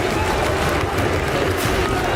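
A packed arena crowd at a VALORANT esports match roars and claps in a loud, steady, continuous wall of cheering.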